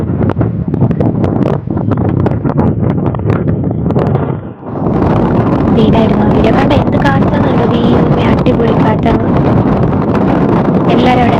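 Strong wind buffets the microphone on a forest hill trail to Sarvajna Peetha, a loud, continuous roar with gusting surges, briefly dipping midway, while faint voices sit underneath.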